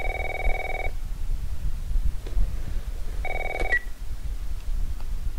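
A telephone rings twice in The Last of Us on PS3, each ring a steady electronic trill lasting under a second, separated by a pause over a low background hum.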